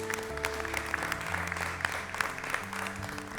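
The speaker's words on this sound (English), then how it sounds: "Please, round of applause for them." A studio audience applauds the couples on a show, steady scattered clapping at moderate loudness while a low music bed with sustained tones plays underneath.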